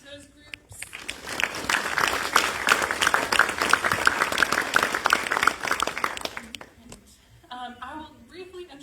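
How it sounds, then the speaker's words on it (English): An audience at a panel event gives a round of applause: a dense burst of clapping swells for several seconds, then fades out as a speaker's voice resumes. "So, quick round of applause for those groups."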